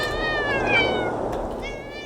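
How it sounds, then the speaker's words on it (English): Cat meowing in the video game Thirty Flights of Loving: a drawn-out, tonal meow with clear harmonics, followed shortly by a second shorter meow, close and loud over a steady low game hum. "Cats."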